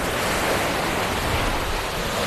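Strong wind gusts across the microphone at Bang Saen beach, a loud, constant roaring rush mixed with surf, with no voices.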